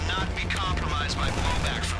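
Rapid bursts of GTA V Online gunfire crackle close and loud over a steady background hum, with a voice talking over them.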